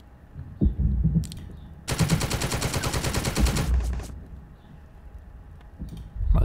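Troops fire in the video game The Troop, a rapid, loud volley of shots lasting about two seconds, set between scattered lower thumps and faint clicks, with no talking.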